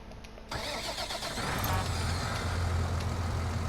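A tractor engine cranks and catches in a farming simulation game, then settles into a steady, fairly loud low idle rumble.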